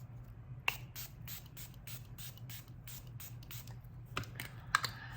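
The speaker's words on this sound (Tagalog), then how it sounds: "of course, the setting spray" Makeup setting spray comes out of a pump bottle in a quick series of short, crisp hissing bursts, evenly paced and close, in a quiet room with no talking.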